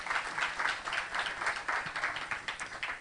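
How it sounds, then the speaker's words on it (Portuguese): A church congregation applauds, a dense steady patter of many hands clapping at once, moderately loud and continuous throughout. "Quem pode aplaudir ao Senhor por isso?"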